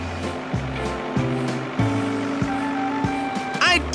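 A cartoon car belonging to Kitty starts to roll forward slowly, with a low engine hum broken by bumps and thuds and a squeaky burst near the end.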